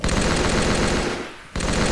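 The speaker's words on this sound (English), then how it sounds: "now I have the L86A3, which is like the British Army assault rifle thingy." L86A3 assault rifle firing in the Roblox game Arsenal, a rapid automatic burst of evenly spaced shots, a brief pause, then firing resumes, loud and close with no speech.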